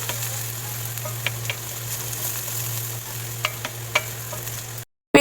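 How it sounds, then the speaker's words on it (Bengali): Chopped onions and cumin frying in oil in a pan, a quiet steady sizzle with a low hum and a few soft scraping stirs, no talking. "এবার সমস্ত জিনিসকে আমি ভালো করে ভেজে নেব"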